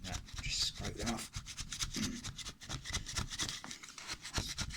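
Fake fingernails are scraped off with a rough, continuous rasping and rubbing close by, in quick repeated strokes.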